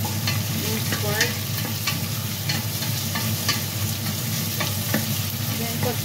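Minced pork browns in a frying pan for Filipino pakbet, sizzling steadily while a spatula stirs and scrapes against the pan in irregular clicks.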